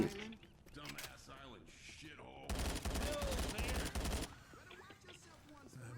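Burst of rapid gunfire in the zombie shooter game Left 4 Dead, loud and dense for a couple of seconds, with voices talking before and after.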